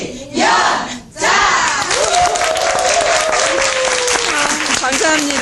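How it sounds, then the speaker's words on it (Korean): A burst of loud, sustained clapping from a sizable audience, filling the room with dense applause and a few raised voices. "이연자 하고 박수 한번 해볼게요."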